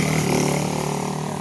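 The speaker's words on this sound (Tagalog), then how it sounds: "May dumaan na motor." A motorcycle engine passes on a rural road, a steady buzzing drone with a harmonic whine, loud and close throughout, with no clear rise or fade.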